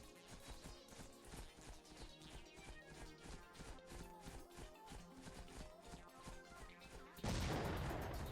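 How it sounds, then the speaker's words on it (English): In the video game Moon Child 2, rhythmic thumping game action gives way to a sudden, loud, broadband blast of explosion noise near the end. "Oh, you're exploding."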